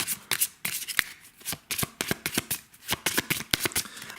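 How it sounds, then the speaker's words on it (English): Tarot cards being shuffled repeatedly, crisp riffling bursts in quick succession, close and fairly quiet, with no voices. "simply shuffling the cards"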